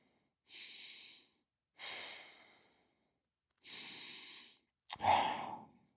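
Slow, deep breathing during an easy calisthenics stretching session: three long, close breaths with gaps between them, ending in a sharper, louder exhale.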